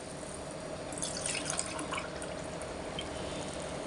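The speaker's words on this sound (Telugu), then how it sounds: "ఇప్పుడు నేను ఇందులోకి వాటర్ వేసుకుంటున్నాను" Water poured into a pot of rice for chicken pulao, a steady trickling splash that swells briefly in the middle, heard close up over a faint background hum, with no talking.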